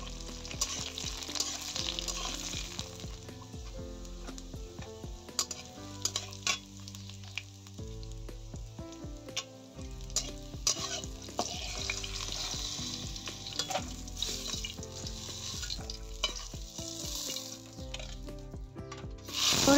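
Eggplant and bitter gourd fry in mustard oil for a shukto: a steady, close sizzle with repeated stirring scrapes and light clinks against the pan, continuous throughout with no talking.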